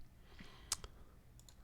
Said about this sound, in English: you hold down the Control key, that's usually at the bottom left side of your keyboard, and then you press Z